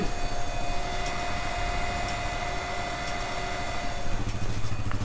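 The engine of a sap vacuum pump at a maple syrup operation runs as a steady, loud mechanical drone with a constant hum, heard close up with no talking.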